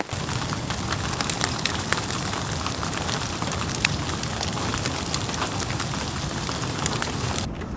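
Steady rain falls hard at a coastal campsite on the Oregon coast during a storm, a dense unbroken hiss pattering on surfaces and gear throughout, with no talking.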